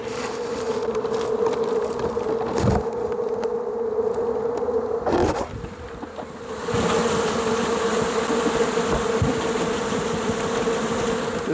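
A swarm of honeybees hums continuously and loudly nearby, with a steady drone that dips briefly in the middle and then returns to full strength.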